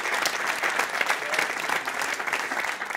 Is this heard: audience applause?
yes